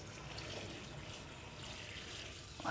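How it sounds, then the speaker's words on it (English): Tap water running into a large stock pot in a kitchen, a soft steady splashing flow heard fairly quietly throughout. "And now we're gonna cover this with water."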